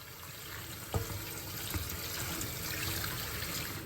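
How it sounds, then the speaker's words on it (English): Tap water running into a cooking pan, a continuous close gushing and splashing with a couple of faint knocks, steady and moderately quiet, no voices. "So I'm just gonna fill my pan up quarter way,"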